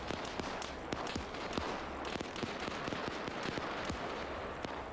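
Distant gunfire from bunkers in Arma 3 crackles as rapid, irregular sharp shots and bursts, fairly faint and steady over several seconds.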